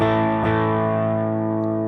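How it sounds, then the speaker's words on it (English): An electric guitar through a full humbucker pickup rings out a sustained, slightly overdriven chord, held and slowly fading with a faint pick scrape near the start, loud and close with no talk. "So this is the sound of the full humbucker."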